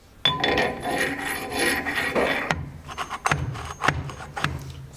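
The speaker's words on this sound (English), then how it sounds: "So clean daily with the wire brush if this isn't done correctly." A wire brush scrubs the shaft of a wheel balancer in a workshop, first as a steady dense rasping stroke, then as a series of shorter scraping strokes with small metallic knocks, close and fairly loud.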